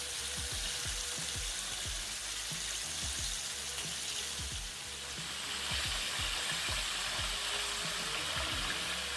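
Chicken pieces deep-frying in hot oil, a steady loud sizzle with frequent small pops and crackles throughout, no talking.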